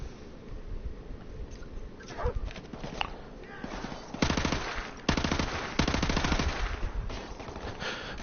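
Automatic gunfire from enemy shootouts in Call of Duty Modern Warfare Remastered, rapid rattling bursts that grow louder and denser toward the end over a busy game soundscape, with a voice talking underneath.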